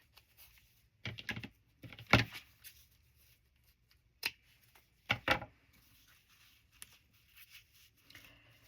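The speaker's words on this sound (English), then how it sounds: "Cut a little strip of my cloth measuring tape." Scissors snip through a narrow strip of cloth measuring tape at a craft table, a few quiet close cuts with short crisp bursts and pauses between them.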